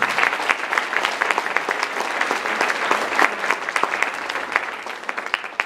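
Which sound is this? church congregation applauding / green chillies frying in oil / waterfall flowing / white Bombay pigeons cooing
church congregation applauding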